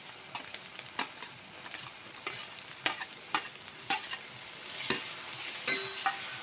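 Cluster beans curry with tomato stirred in a pan, a low steady sizzle of frying under repeated scraping knocks of the spoon against the pan at an irregular rhythm, fairly quiet and close.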